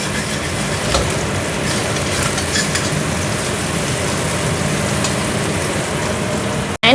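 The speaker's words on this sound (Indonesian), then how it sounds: "ini kacang berry ini mendidih ya teman-teman" Beans boil in a pan of sambal on a home stove. The bubbling and sizzling is loud, close and continuous, with small irregular pops throughout and a brief clatter at the very end.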